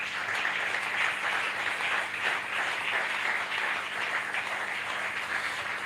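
Church congregation applauding together at a worship service in Kinshasa, a dense, steady round of clapping that fills the room and holds at an even level throughout.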